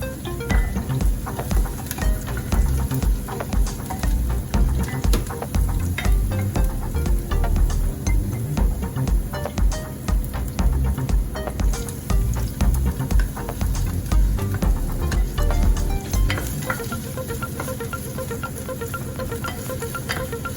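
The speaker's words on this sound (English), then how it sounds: "Sauté the minced garlic and chopped onion for about 1 to 2 minutes in a medium heat in a casserole" Minced garlic and chopped onion sautéing over medium heat in a casserole, a continuous dense sizzle with steady stirring scrapes, heard alone without talk.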